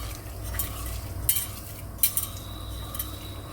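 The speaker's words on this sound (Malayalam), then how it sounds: "കൈ കൊണ്ട് നന്നായിട്ടൊന്ന് ഞവടി കൊടുക്കണം" Boiled eggs being mixed by hand with chili powder and coconut oil give soft wet squelching and rubbing, with a few sharp clinks against the bowl, close up and without talk.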